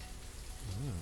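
Rain pours in the colony-building video game Banished, a continuous close hiss of drops, joined near the end by a brief low tonal swell like a voice starting.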